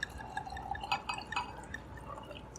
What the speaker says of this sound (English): I'm just going to open up the bottle here and, of course, pour myself a glass